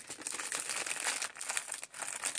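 Plastic bag around a werewolf mask crinkles and rustles continuously while being handled and pulled open during an unboxing, close and fairly steady with brief pauses.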